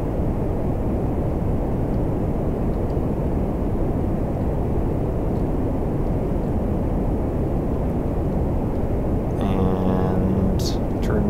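A rocket engine roars in Kerbal Space Program, a loud, steady, unbroken rumble that holds level throughout, with a few faint higher clicks near the end.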